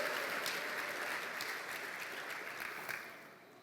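Congregation clapping inside a church during a Portuguese-language service, a dense burst of applause that is already underway and gradually thins and fades over a few seconds.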